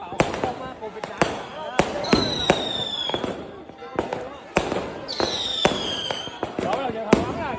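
A fireworks display in Vietnam: sharp bangs and crackling bursts repeat irregularly, with a couple of rising whistles, some near and loud, while people talk excitedly.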